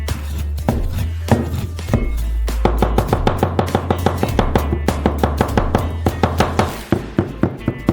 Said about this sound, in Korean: 페페로니 소시지를 가능한 한 잘게 다져주세요.